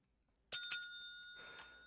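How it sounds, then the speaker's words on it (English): A guest rings a hotel front-desk bell in a hotel management video game: two sharp metallic dings close together, ringing out with a long, clear decay, followed by faint background rustle. "we have another annoying guest ringing the bell"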